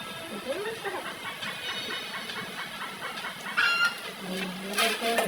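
Chickens cluck in repeated short bursts nearby, with a crow-like call rising toward the end over a busy background.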